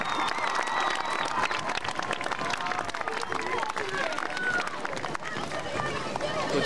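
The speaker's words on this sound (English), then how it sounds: "Let's give all these young ladies a big round of applause." A crowd at a high school homecoming football game applauds steadily, dense clapping filling the space with scattered cheers and voices mixed in throughout.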